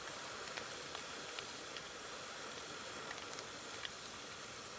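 Food sizzles in a frying pan at a camp, a steady, even hiss with faint crackles, moderately quiet and continuous with no talking.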